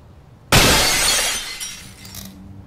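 A brick smashes through a window in a horror video game, a sudden loud crash of shattering glass followed by tinkling shards that fade over about two seconds, with no talking.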